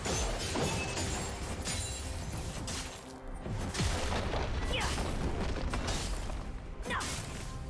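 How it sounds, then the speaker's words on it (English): Crashes and shattering booms as a turret is destroyed in League of Legends, amid steady, busy battle noise with crisp impacts scattered throughout and a voice talking under the action. "Blue team's turret has been destroyed."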